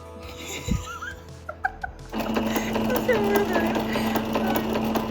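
Sewing machine running steadily while topstitching a prototype dress, a low continuous motor hum and needle chatter starting about two seconds in after a few scattered clicks and handling noises.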